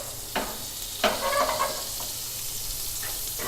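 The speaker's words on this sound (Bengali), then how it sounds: "আমি আর 2টো চিকেন ভাজবো, তার জন্য আর একটু সামান্য তেল দিচ্ছি আর একটু বাটার দিয়ে দিচ্ছি।" Tandoori chicken frying in a pan of oil and butter gives off a soft, steady sizzle, with a few brief clinks and stirring sounds on top. The sound is close and fairly quiet.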